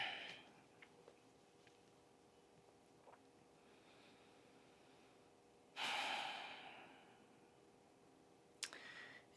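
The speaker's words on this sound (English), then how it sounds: "Pulling that attention and awareness into the state and quality of your breathing" Slow breaths during a morning yoga session, heard as one soft, close exhale in the middle and a quick sharp intake near the end, with faint clicks and a quiet background in between.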